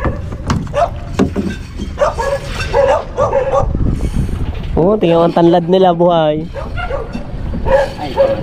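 Dogs bark in short bursts amid people talking, with a drawn-out whining, yelping bark rising near the middle.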